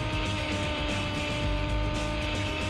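A rally car engine in the PS1 racing game Rally de Europe, on the Thessalia circuit, drones loudly and steadily throughout with a dense, unbroken roar and no talking.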